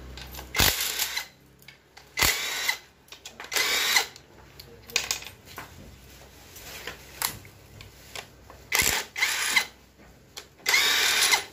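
A power tool loosens 14 mm bolts on a Suzuki Grand Vitara automatic. It comes as repeated short bursts of high-pitched whirring and rattling, close by, with quiet pauses between the runs.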